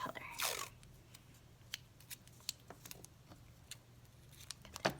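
Scissors snip off the edge of a strip of washi tape on a paper map book craft, one quick, quiet cut near the start followed by faint clicks and rustling handling.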